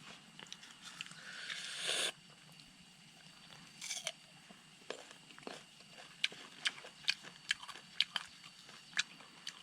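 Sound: eating mango, biting and chewing

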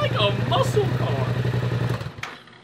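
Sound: Yamaha R7 motorcycle with Leo Vince exhaust idling

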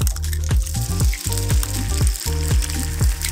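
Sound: egg frying in butter in a pan

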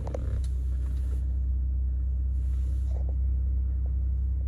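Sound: Ford F-150 Lariat truck engine starting and idling

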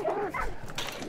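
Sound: dogs barking in the video game Hunt: Showdown

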